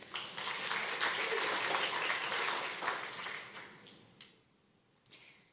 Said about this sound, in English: So round of applause for engineer.